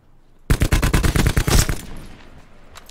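Rapid burst of KN-57 rifle fire in a video game: about a dozen closely spaced, loud, sharp shots over roughly a second, then a short fading echo and near silence.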